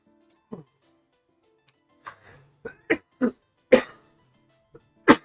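A series of short, sharp coughs, about seven bursts spaced irregularly over a few seconds, close and fairly loud with quiet between them.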